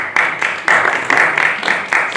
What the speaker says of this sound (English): This is when we applaud ourselves.